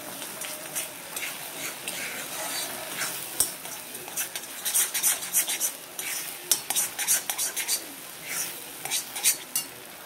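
Pointed gourd paste is stirred and cooked down in a pan. A spoon scrapes and clinks against the metal in an uneven rhythm, with a soft sizzle underneath, close and fairly quiet.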